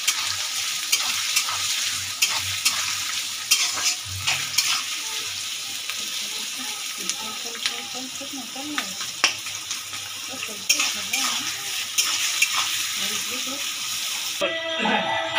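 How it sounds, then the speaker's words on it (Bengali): Chopped onions frying and being stirred in a pan for chicken korma, with a steady sizzle and repeated scraping strokes of a spoon throughout. "এবার দিলাম পেঁয়াজ, পেঁয়াজগুলো সব লাল লাল করে ভেজে নেব।"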